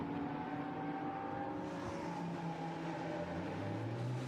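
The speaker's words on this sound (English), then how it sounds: "So Mattia Michelotto, race leader, is now into the pits." A Lamborghini Super Trofeo race car enters the pit lane during a European race at Barcelona. Its engine gives a steady, moderately distant drone that climbs in pitch toward the end.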